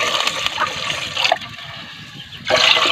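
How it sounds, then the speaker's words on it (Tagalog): Water pours into a cooking pot holding garlic and onion for chicken tinola, a splashing, gurgling stream that stops briefly and then gushes again near the microphone. "Tapos lagyan natin ng tubig."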